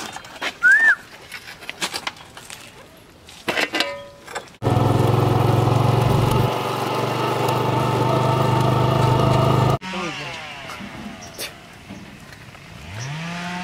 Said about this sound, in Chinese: 还骑个三轮车逛来逛去